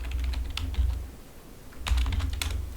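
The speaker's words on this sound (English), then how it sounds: "So we could go here and type in warning." Quiet typing on a computer keyboard while a word is entered into a Python command-line program. It comes in two short bursts of rapid, light key clicks with a pause between them.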